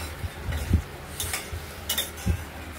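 A utensil stirs spices as they are sautéed in a pan for a potato and paneer bora curry, with a few scraping strokes against the metal over a soft background hiss and no talking.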